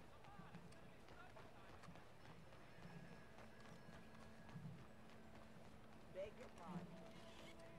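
Hooves of a horse ridden in the video game Red Dead Redemption 2 clip-clop faintly at a steady trot beneath quiet background sounds, with a few brief louder bumps near the end.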